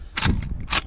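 Two sharp shots from a Henry Big Boy lever-action rifle at a target range, close and crisp, with a brief mechanical sound between them.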